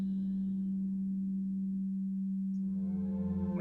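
A steady ambient calm space tone from a Solex scanner, a soft continuous low hum holding one pitch with a faint rising shimmer near the end, alone and fairly quiet.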